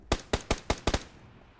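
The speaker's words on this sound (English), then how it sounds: "Is that an SMG?" SMG gunfire in the battle royale game PUBG: a quick, evenly spaced burst of five or six sharp shots at moderate distance, with a short tail after the last one.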